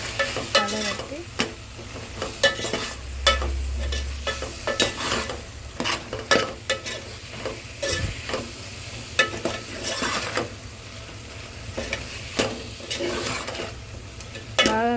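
A spoon scrapes and stirs cauliflower curry with chilli powder in a pan, irregular clattering strokes over a faint sizzle, close and fairly quiet with no talking.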